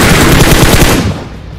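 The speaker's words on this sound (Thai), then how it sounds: "มีคนยิงอยู่ท้ายเมือง" Loud burst of rapid automatic gunfire in the mobile battle-royale game PUBG Mobile, a dense rattling volley that cuts off after about a second.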